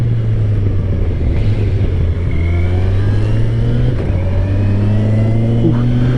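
A 2023 Kawasaki Versys 1000 SE adventure-touring motorcycle cruises at a steady clip, its engine holding a smooth, continuous low drone with a slight pitch drift as the quick shifter changes gear, wind noise running underneath throughout.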